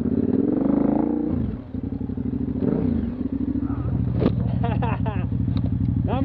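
A dirt bike engine revs and idles loudly nearby on a dirt trail in a creek area, its pitch rising and falling while people talk and call out over it.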